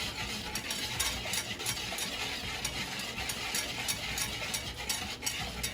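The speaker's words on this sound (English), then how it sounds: "You have to stir it the whole time so the eggs don't coagulate" Egg mixture being whisked and stirred steadily in a pot over medium heat, a continuous close scraping and swishing with a faint cooking sizzle underneath, no talking.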